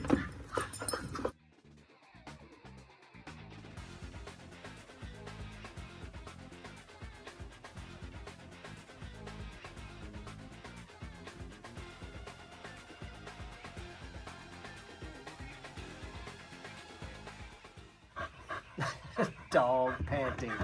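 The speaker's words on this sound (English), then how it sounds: "Dog panting." Dogs panting and whimpering close by during work on a RZR 1000 side-by-side, steady breathy rhythm running through most of the stretch, with sharper bursts of noise at the start and end.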